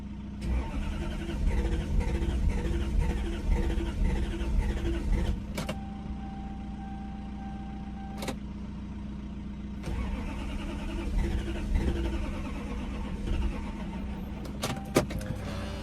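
A Toyota 1UZ V8 engine cranking but failing to start, the starter churning in long rhythmic bursts with short pauses between attempts, close and steady, no voices.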